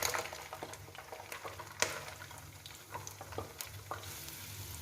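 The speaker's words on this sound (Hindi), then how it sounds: "अब हम ऑयल में इसको अच्छे से मिक्स करके इसको हल्का सा गोल्डन होने तक फ्राई करेंगे" Two large chopped onions fry in hot oil while being stirred, a steady close sizzle broken by scraping spoon strokes and occasional sharper taps, with no voices.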